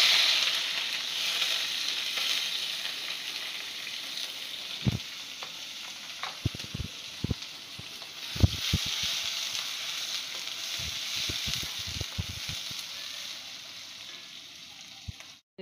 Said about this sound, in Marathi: आता मी कांदे टाकते.